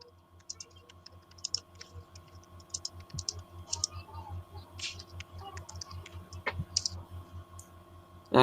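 A computer keyboard clicks in scattered bursts of typing, light and fairly close, over a steady low electrical hum, with occasional louder taps and a sharp knock at the very end.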